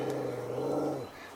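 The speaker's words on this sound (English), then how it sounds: "got Woody Dog out here keeping watch and letting people know what for." Woody the dog gives a low, steady growl close by outdoors for about a second, then trails off into quiet.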